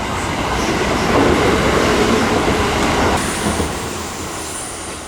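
A Kintetsu railway train moves through a small rural Japanese station, a loud, steady rumble of wheels on track with faint squealing and clatter, swelling as it passes close and then easing off.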